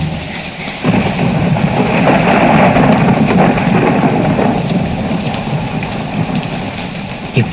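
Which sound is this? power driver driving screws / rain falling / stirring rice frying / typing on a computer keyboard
rain falling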